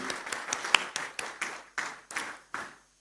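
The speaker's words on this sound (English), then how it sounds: "let's give a big round of applause to entire Padmaja Group and Shri Prabhu Kishoji." Audience applause at a corporate ceremony honouring a Suzuki two-wheeler dealership group, heard as sparse, uneven hand claps that swell and fade in a few bursts over a few seconds, fairly close and moderately loud.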